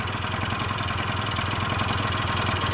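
A Honda Elite scooter engine idles steadily just after its first startup, a close, even, buzzing putter that holds constant throughout.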